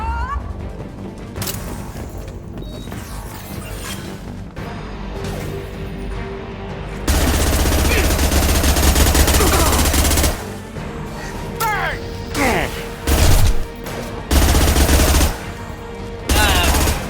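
Mass Effect 2 combat: loud, near bursts of automatic gunfire and single shots, fading into lulls with scattered crackling and occasional voices between volleys.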